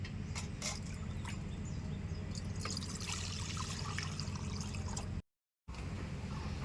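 Water poured into a kadai set on a lit stove in a home kitchen, a steady close trickling and splashing stream lasting several seconds, broken by a brief gap near the end, with no talking.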